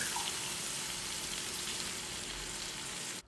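Water pours into a pot of browned meat, a steady hiss and sizzle that holds evenly, close and loud, then cuts off abruptly at the end.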